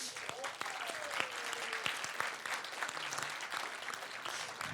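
Audience applause at a short-film festival broadcast, a steady patter of clapping hands, moderately distant and fairly soft, with faint talk mixed in.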